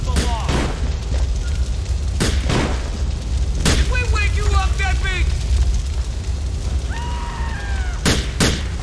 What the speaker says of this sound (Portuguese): Tic-tac, it's gonna blow!